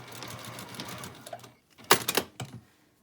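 A sewing machine backstitches a pleated fabric face mask, sounding as a few short quick whirring bursts that start and stop, following a stretch of quieter background sound.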